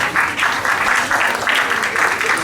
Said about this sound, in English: A big round of applause for class 5D.